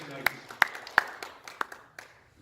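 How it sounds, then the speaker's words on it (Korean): Scattered hand claps from a church congregation at a Presbyterian pastor ordination thanksgiving service, about six sharp, separate claps spaced through the moment, fading toward the end. "이두 분자 박수 한번 힘있게 쳐 축하합니다."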